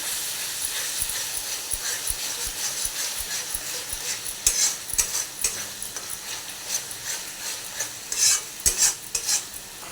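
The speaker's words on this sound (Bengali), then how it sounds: "টক দই আর সসটা যে নেওয়া ছিল সেটা আমি এখানে দিয়ে দিলাম। একটু নাড়াচাড়া করে নিই।" Sour yogurt and sauce are stirred in a hot frying pan, with repeated close scraping strokes of a spoon over a continuous sizzle and hiss, a few louder clatters toward the end.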